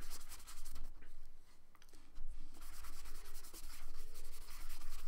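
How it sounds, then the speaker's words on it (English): A paintbrush scrubs paint onto paper, a soft continuous rubbing and scratching texture with steady back-and-forth strokes, close and quiet. "I'm just going to start maybe scrubbing some paint down, dip it in the water to spread it around"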